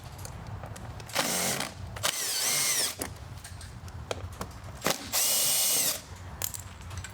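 A power tool undoing screws on a Duromax XP11000iH generator during a carburetor replacement, several short whirring drill bursts with clicks and handling noises between them, close.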